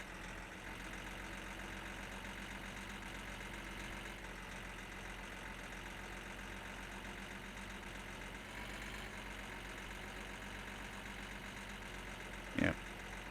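A boat engine in the video game My Summer Car drones at a constant low idle throughout, steady and unchanging, with one brief knock near the end.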